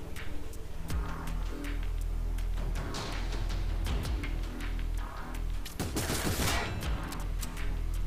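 Rapid bursts of gunfire from the tactical game Frozen Synapse crackle over a droning electronic music bed, with a dense, loud volley of shots near the six-second mark.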